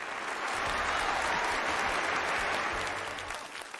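An audience at a comedy sketch performance bursts into loud, sustained applause, a dense wash of clapping that holds steady and fades slightly at the end.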